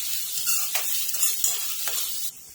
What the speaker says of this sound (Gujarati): આપણે જીની કટ કરેલી બે ડુંગળી એડ કરીશું અને શેકા દઈશું ડુંગળીને